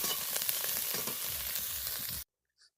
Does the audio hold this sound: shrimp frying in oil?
yes